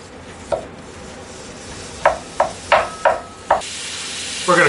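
Ground beef cooking in a skillet over medium-high heat, a steady sizzle underneath a series of sharp scraping and tapping strikes from a utensil breaking up the meat, irregularly spaced and close.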